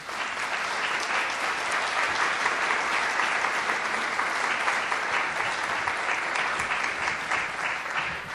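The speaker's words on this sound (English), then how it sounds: "Go ahead and give him a round of applause" A lecture audience gives a sustained round of applause to welcome an evening speaker, a thick, even wall of clapping lasting several seconds with only faint voices beneath.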